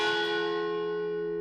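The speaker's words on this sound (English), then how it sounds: "took not more than a few steps before the bell began to ring again" A cemetery bell gives a single loud, clear strike that rings on with a long, slowly fading metallic hum, heard alone.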